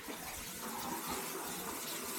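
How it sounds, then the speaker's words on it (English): Hot water running steadily from a tap in a home, a continuous soft hiss and splash, fairly faint and unbroken, with no talking. "So just waiting for the hot water to come through"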